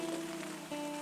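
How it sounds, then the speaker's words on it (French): Rain falls at night with a steady, soft hiss of drops pattering on a surface, and a faint tonal hum runs beneath it through the short stretch. "je vais écouter tranquillement la pluie tomber."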